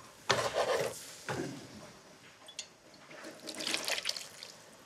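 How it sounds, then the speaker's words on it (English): Water is added to a breadcrumb cookie paste in short splashy pours, two quick bursts followed by a longer trickling stretch, close and moderately loud with no talk. "So I'm gonna add a little bit of water as needed to get to like a paste consistency."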